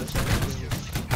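Musket volley in Holdfast: Nations At War: a dense, crackling burst of massed gunfire, with a few further ragged shots across about a second. A voice is faintly audible underneath.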